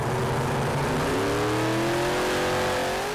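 Pulling tractor Fenrir, powered by four Keith Black engines, roars loudly at a tractor pulling championship, a dense, continuous engine blare rising in pitch as it accelerates down the track, with no voices.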